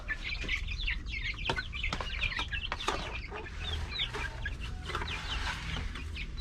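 Many chickens cluck and chatter together at a coop in a busy, continuous chorus, with sharp overlapping calls from several birds close by.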